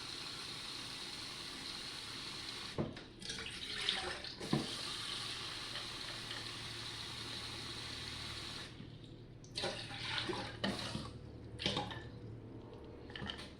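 Tap water runs into a container, a continuous hissing gush with gurgling fill tones, briefly interrupted by clinks and knocks, then resuming in choppier splashes toward the end.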